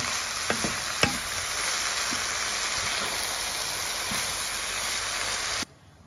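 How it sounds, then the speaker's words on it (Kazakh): Cabbage filling for pirozhki sizzles steadily in a hot pan, with a constant hiss and a few light clicks as it is stirred. The sound cuts off near the end. "жақсылап араластырып, жақсылап қуырып аламыз."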